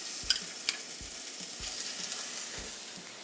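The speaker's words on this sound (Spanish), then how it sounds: "Tenemos la sartén caliente. Le ponemos un poquito de aceite. Agregamos la cebolla." Chopped onion hits a little oil in a hot skillet with a steady sizzle, punctuated by a few dull thuds and light scrapes of stirring, close and without speech.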